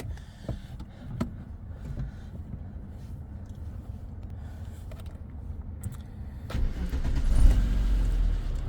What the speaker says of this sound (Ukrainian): автомобіль заводиться без проблем, працює рівно, стабільно, справно.